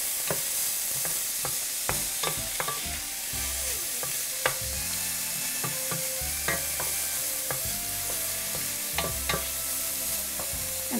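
A small chopped onion cooking gently in a pan, with a low steady sizzle and frequent close scraping and tapping from stirring, no voices over it.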